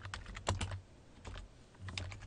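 Quiet bursts of typing on a computer keyboard during a C++ programming lesson, a few quick clusters of keystrokes separated by short pauses, close and soft with no talking.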